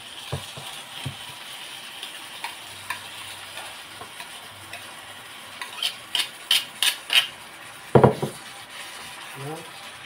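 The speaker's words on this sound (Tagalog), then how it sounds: "Gigisa natin ang ampalaya." Bitter gourd (ampalaya) sautés in a hot pan: a soft background sizzle broken by scraping utensil strokes, then a run of sharp clinks and rasps from spatula on metal near the end.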